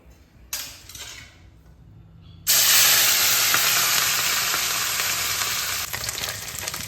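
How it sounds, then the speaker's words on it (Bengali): Mourala fish rubbed with salt, turmeric and oil hit hot mustard oil in a kadai with a sudden loud, dense sizzle that stays steady and close after a few quieter clatters. "গরম সর্ষের তেলে মাছগুলোকে ভেজে নেব।"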